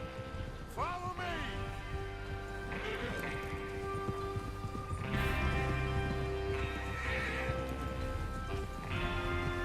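Horses in Red Dead Redemption 2 whinny and shift their hooves over a steady low rumble and patter, with brief neighs standing out near the start and middle of the scene.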